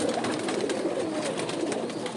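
Rooftop pigeons coo nearby in a continuous soft, throaty murmur, several birds overlapping steadily against a hissy background with no voices.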